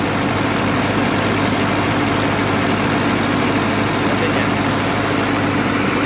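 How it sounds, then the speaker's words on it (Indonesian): An open-frame 30 kVA four-cylinder diesel generator set runs at a steady idle, with a loud, constant low rumble and mechanical vibration close by. Its exhaust silencer is still open. "Seperti ini genset open dari Murakabi yang baru."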